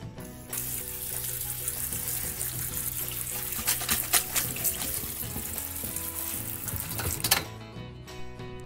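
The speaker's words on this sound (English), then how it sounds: "throw in your strainer for rinsing" Tap water runs and splashes over chopped potatoes rinsing in a strainer, a steady close wash with scattered clatters and sharper splashes before the flow cuts off near the end.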